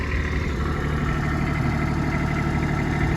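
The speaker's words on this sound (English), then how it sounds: "we've got the tractor warmed up" Kubota B2601 compact tractor engine idling steadily as it warms up on a cold morning before snow clearing, a constant close drone with no speech.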